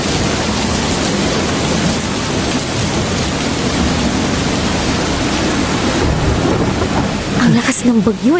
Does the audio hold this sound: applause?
no